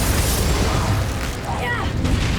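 Spell blasts and magical explosions from the video game Hogwarts Legacy, a few booming bursts mixed with a player shouting spell names over game noise.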